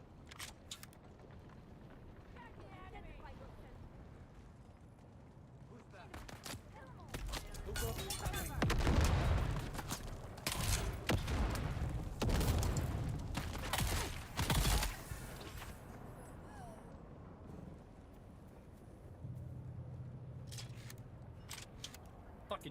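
Gunfire in the video game Dune Awakening: a cluster of loud bursts of shots in the middle, with quieter single reports before and after. A voice talks over parts of it.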